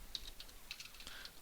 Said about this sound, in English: we can actually type in, or we can type in system.out.println mathematically